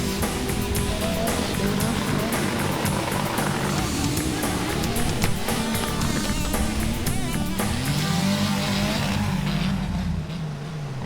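Four-wheel drive vehicles race off-road at the Johor Offroad Charity Challenge. Engines roar and rev loudly and continuously, with pitch rising and falling as they strain through the course.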